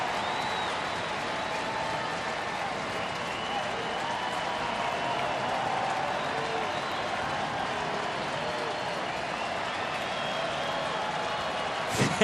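Big baseball stadium crowd at a Twins game cheering and applauding as a full, constant roar of clapping and shouting, with a commentator talking over it.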